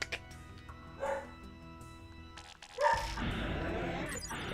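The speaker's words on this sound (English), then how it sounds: "That's my dog. Obviously something's going on outside and she's not happy." A female dog indoors reacting to something outside, giving several short, fairly loud yips and barks in bursts, with a longer run of barking near the end.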